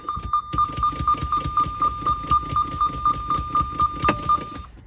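A steady beeping warning tone plays close by inside a truck cab as air brakes are pumped in a rapid, even rhythm, each stroke a short hissing puff, until the parking brake pops at about 20 psi.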